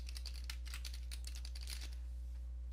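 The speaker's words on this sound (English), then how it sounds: "type in Computer Management." Typing Computer Management into the Windows Start menu on a computer keyboard, a brisk string of close key clicks over a steady low electrical hum, stopping near the end.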